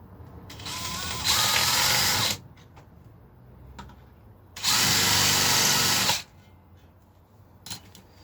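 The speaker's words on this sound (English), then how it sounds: "That's drilled some pilot holes roughly in the right place" A power drill drilling pilot holes in a Les Paul guitar build whirs in two long bursts of about a second each, separated by quiet with small clicks and handling noises, and a short final spurt.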